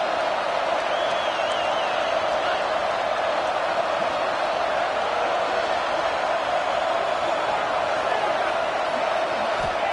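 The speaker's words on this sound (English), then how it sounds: "The Red Raider crowd rising to the occasion to help its defense on 3rd down." A Red Raider college football crowd roars steadily on third down to back its defense, a dense, continuous wall of cheering and noise at full volume with no break.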